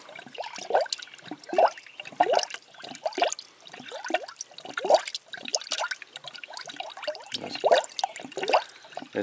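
Coolant glugs and trickles through a spill-free funnel into the radiator of a Pentastar V6 Jeep, in a steady run of close, irregular gurgles and drips with no voices.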